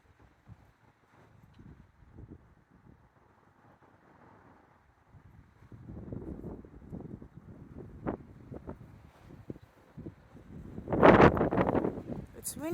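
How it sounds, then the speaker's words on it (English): Outdoor wind on a dog walk, gusting and buffeting the microphone in uneven bursts that swell louder toward the end, with a person talking softly throughout. "It's windy."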